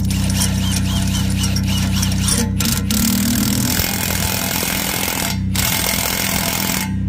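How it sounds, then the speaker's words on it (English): A pneumatic impact wrench tightens lug nuts on a wheel, loud continuous hammering bursts with brief pauses between nuts, close by over a steady engine-like drone. "We'll hit them with the impact here"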